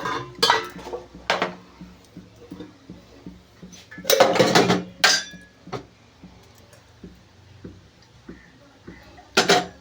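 A kadai pan set down on a gas stove with metallic clanks and clinks, a few sharp bursts of cookware noise separated by quiet pauses, close by with no talk.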